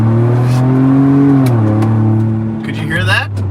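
A Ford Bronco engine revs up under acceleration, its tone rising then settling into a steady roar, close and loud, with a brief faint voice near the end.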